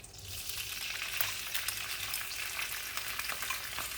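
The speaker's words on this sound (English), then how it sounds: "I'll give it a fry for a minute. This is just to develop the flavor." Sichuan preserved vegetables sizzle and crackle steadily in a hot wok, a continuous fizzing hiss with small pops and occasional stirring scrapes, nobody talking.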